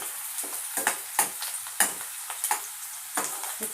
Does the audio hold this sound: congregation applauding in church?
no